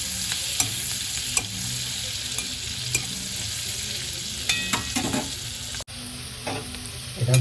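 Green chillies and chicken for chicken bharta stirred in a frying pan: steady close sizzle with repeated scraping spatula strokes and occasional clanks, no voices.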